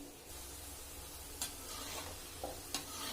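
Jamun dough balls fry in hot oil with a soft, steady bubbling sizzle, broken by a few sharp ticks and clinks close by.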